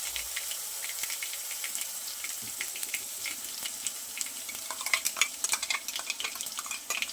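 Crushed garlic paste frying in hot oil with asafoetida and mustard seeds over a low flame, a soft continuous sizzle with scattered crackles and spatters that grow busier toward the end.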